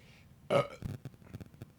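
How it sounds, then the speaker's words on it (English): A single loud, close burp erupts abruptly and trails into a short series of softer, rumbling follow-up belches, with no talking. "Burps on top of burps."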